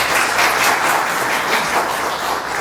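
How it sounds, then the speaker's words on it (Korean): Loud, sustained applause from an audience at a political party member training session, a thick wash of clapping hands continuing evenly throughout. "우리 김기태 위원장님께 박수 한번 부탁드리겠습니다"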